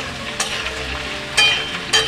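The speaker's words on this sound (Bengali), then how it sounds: "সবকটা সবজি এখন আমি একটু ভাজা ভাজা করে নেব" Mixed vegetables fry over high flame in a pan, a close steady sizzle broken by three sharp scraping stirs of a spatula against the metal, with no voices.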